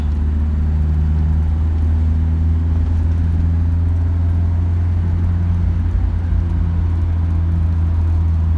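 A Mercedes-Benz 190SL pulling uphill in third gear, a steady, loud, low engine drone heard from inside the car with faint road rumble and no talking.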